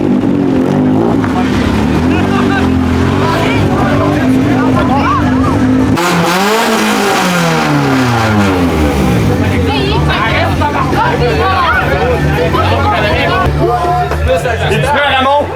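A car engine revs hard at a rowdy outdoor redneck party, the pitch rising and falling through loud sweeping revs, with crowd chatter and shouting over it throughout.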